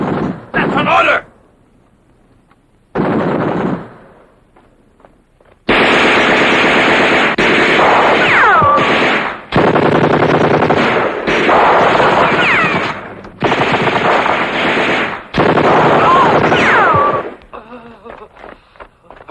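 Bursts of machine gun and rifle fire in a desert battle at El Alamein, loud and sustained in long rattling volleys with brief gaps, shouted voices heard between the bursts.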